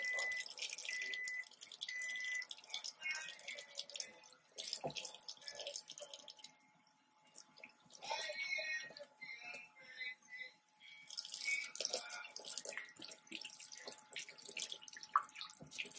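Hot water runs from a household tap into a sink in a home kitchen, a steady splashing with drips, moderately near, continuing through the whole stretch with brief dips.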